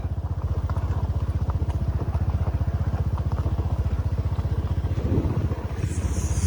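A small motorcycle rides a gravel road, its engine putting out a steady, close, rhythmic putter that holds throughout, with faint clatter from the rough surface and no talk.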